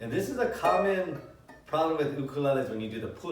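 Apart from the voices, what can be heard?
No everyday noises stand out.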